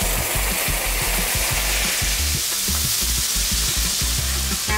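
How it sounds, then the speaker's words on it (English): Chili powder being stirred into onion, coconut and garlic frying in a pan gives a steady, loud sizzle. Spoon scrapes and stirring strokes rise rhythmically through it, with no voices. "Stir the chili powder into the fried onion with the coconut and garlic."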